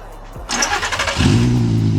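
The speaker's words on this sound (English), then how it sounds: "What I will do is give you a little engine turn on." A VW Caddy Maxi with a swapped R32 engine and no exhaust fitted cranks briefly, catches and settles into a loud, raw idle close by.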